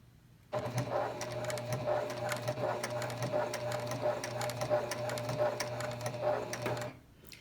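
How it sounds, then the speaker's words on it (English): Janome or Juki heavy-duty sewing machine stitching through 16 layers of cotton fabric: a steady, rapid mechanical hum and needle clatter for about six seconds, close but moderately quiet, starting and stopping abruptly. "here I'm going to be stitching 16 layers of cotton fabric. I'm using my favorite Cellwork thread, and I'm going to sew and see how we go."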